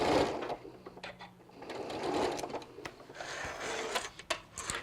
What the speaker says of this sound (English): stick that elastic inside my 2 layers of fabric, stitch over it several times so that I made sure that it was in there